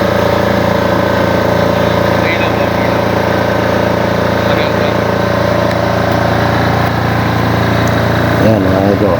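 A 6.5 kVA diesel generator runs steadily close by, a loud continuous engine drone with a low hum that holds level throughout, and a voice talks faintly beneath it near the end.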